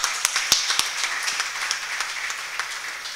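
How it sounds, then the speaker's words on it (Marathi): An audience claps at a photography contest award ceremony, a few sharp close claps at the start giving way to a steady, moderately loud patter of applause that continues to the end. "तर आपण एकदा मला वाटतं जोरदार टाळ्या वाजवूया"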